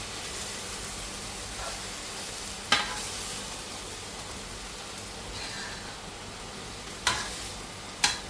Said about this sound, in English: Now, these eggplants cook up pretty quick.